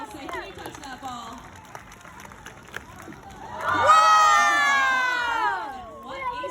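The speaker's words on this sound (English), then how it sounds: "we're gonna need to give Bunker a big round of applause to help cheer her on" Aquarium crowd claps and cheers for Bunker, with an announcer's voice at first, then a swell of applause, whoops and high children's shouts that carries for a couple of seconds before settling.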